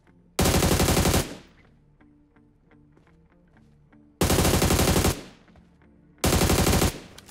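Automatic weapons fire in the mobile battle royale game BGMI comes in three loud, rapid sustained bursts, each lasting about a second, with quieter clicks and game sounds between the volleys.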